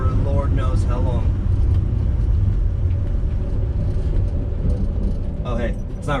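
A 1972 Dodge Dart that has sat for years rolls along with a steady, close engine rumble and road noise, while someone talks over it for much of the ride.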